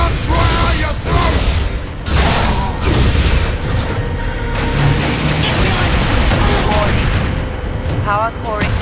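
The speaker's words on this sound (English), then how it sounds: "Power core explosion." A dense, loud barrage of combat in Warhammer 40,000: Space Marine during a power core explosion: booming blasts, gunfire bursts and mechanical clatter, with shouting voices mixed in over the constant roar.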